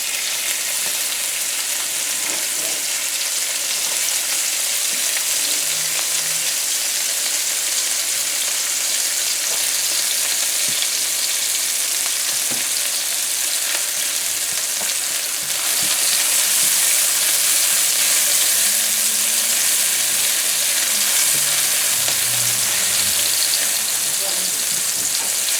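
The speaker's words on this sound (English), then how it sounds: "So we're heating up some oil in our pan again, guys, which is heated already. And we're gonna add some onions." Onions frying in hot oil in a pan, a loud, continuous hiss of sizzle throughout, growing slightly stronger partway through, with faint soft movements underneath.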